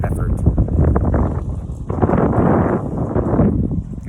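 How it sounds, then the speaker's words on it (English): Gusty wind buffets the microphone outdoors, a loud, continuous low rumble that swells and dips throughout, with a voice speaking underneath it. "I want to get out of the wind so you can hear me"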